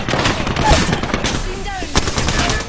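Rapid automatic gunfire and impacts from a battle in the video game Apex Legends, loud and dense, with bursts of shots layered over game effects.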